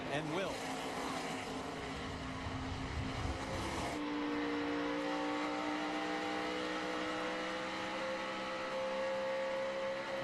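Race cars roar through the final corner of the 2012 Zippo 200 road-course race at Watkins Glen. Engine notes rise and hold steadily, loud and continuous under excited commentary.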